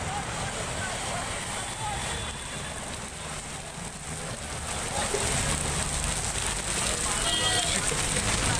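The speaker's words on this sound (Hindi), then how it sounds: "मलाड में तेज बारिश की वजह से भूस्खलन हुआ है" Heavy monsoon rain pours steadily in Malad, Mumbai, a dense broadband hiss that holds level and swells louder in the latter half, with no clear talk over it.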